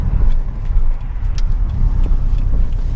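A Subaru STI fitted with a Tomei exhaust hums with a low, steady drone from inside the cabin while driving, with a loud continuous rumble and no voices.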